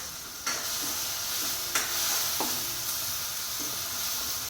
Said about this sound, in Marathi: हे बघा छान अशी फोडणी अशा पद्धतीची तळलेली आहे